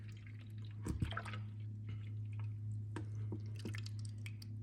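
Half a gallon of chocolate milk pours into an ice cream maker canister, giving soft wet splashes and glugs over a steady low electrical hum, with a louder burst near the start.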